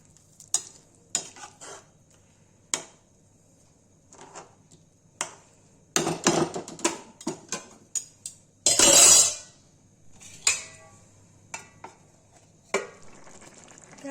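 Eggs go into a frying pan, followed by scattered clinks and scrapes of utensils, a loud burst of sizzling and clatter, then a lid set on top, all close and without talk.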